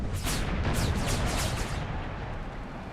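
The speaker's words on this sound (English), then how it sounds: "There's my first howitzer shots though." Howitzer artillery shots in Empire: Total War with the Brothers vs. Brothers mod, a heavy rolling volley of booming cannon reports that fades into a lingering rumble, with no talk.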